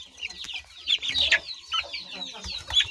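Young chicks being raised for meat cluck and chirp busily while eating feed, close and lively with irregular bursts of calls over soft pecking, no talk.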